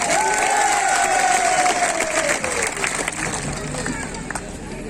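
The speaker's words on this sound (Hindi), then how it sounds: "अरे वो पीछे तालियों की गड़गड़ाहट से।" A crowd at a political rally in Madhya Pradesh breaks into applause and cheering, loud at first and then tapering off, with a babble of voices underneath.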